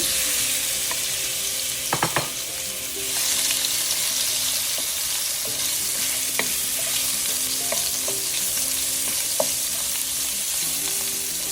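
Medium-small shrimp frying in oil in a pan over medium-high heat make a continuous, bright sizzle, with a few sharp clatters early on and occasional light taps of a utensil.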